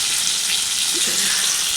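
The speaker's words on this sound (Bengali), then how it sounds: "পটলটা আগে ভাজা বসিয়ে দিয়েছি" Sliced pointed gourd (potol) frying in hot oil in a home kitchen, a steady, loud, close sizzle that holds for about two seconds and then cuts off abruptly.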